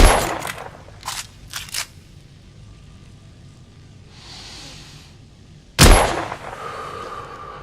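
A test-fired gun in the video game The Order: 1886 cracks in a sharp, loud shot near the end, after a few lighter mechanical clicks and a soft hiss earlier, with no talking.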